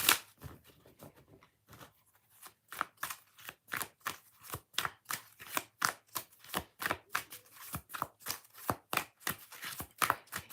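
Tarot cards being shuffled by hand in a steady run of crisp riffling slaps, close and fairly loud, repeating in a regular rhythm with no talking.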